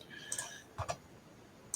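A computer mouse clicks a few times at close range, quick crisp ticks in a quiet room, with a pair of clicks near the middle and one more at the end.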